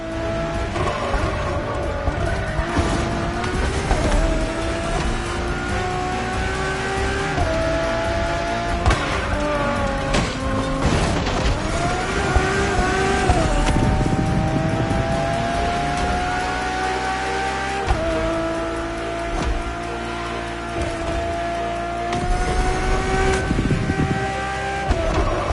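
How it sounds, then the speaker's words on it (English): A Ferrari road-legal Formula One car drives in The Crew Motorfest, its engine a loud, continuous high-revving whine that rises and shifts through gear changes with no voices. "nothing less than a road-legal Formula One, faster on the track but more civilized on the road, Ferrari went all out"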